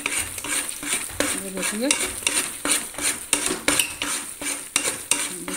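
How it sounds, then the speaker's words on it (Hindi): Roasting wheat flour and khoya are stirred in a pan for atta pinni laddu, with rhythmic metal spatula scrapes and clinks against the pan over a faint sizzle, close and steady, and a voice speaks briefly. "आटा हमारा, अच्छे से भुन चुका है, इसको साथ के साथ चलाते रहें"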